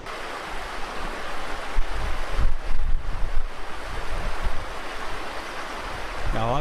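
Water rushes over rocks in a river stream near a village temple in Patharkhola, Uttarakhand, a loud, steady, broadband gush with gusts of wind noise buffeting the microphone.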